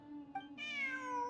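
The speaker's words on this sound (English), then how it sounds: "Look, a cat." A cat in Genshin Impact, ruins setting, gives a short chirp and then a clear, rising-falling meow, close and alone over a quiet background.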